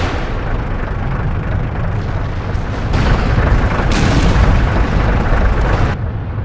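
A rocket artillery barrage from Calliope launchers in the World War II strategy game Order of War, heard as a continuous roar of booming blasts that swells louder midway through and then eases off.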